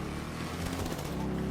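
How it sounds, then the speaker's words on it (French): Motorcycle engine in GTA Online, a steady droning hum that holds throughout at moderate level with dense broadband noise, no clear revving or gear changes. "c'est une moto. Je peux carburer un peu."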